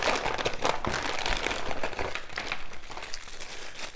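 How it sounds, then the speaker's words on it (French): Car radio wiring for a Volkswagen Polo 6R is pulled from plastic packaging, giving close, irregular crinkling and rustling bursts throughout. "On va déballer ça ensemble, ce sera plus simple."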